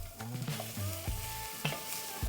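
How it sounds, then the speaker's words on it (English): Shallots and garlic sautéing in avocado oil in a hot pan, a steady close sizzle with stirring scrapes and clinks, no talking. "That way we can start sauteing the shallots,"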